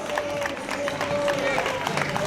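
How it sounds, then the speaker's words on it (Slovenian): Spectators at a cycling time trial in Domžale clap and cheer a passing rider, a busy, moderately loud crowd din with shouting voices mixed in. "Dajmo en aplavz za Katjo Jeretino"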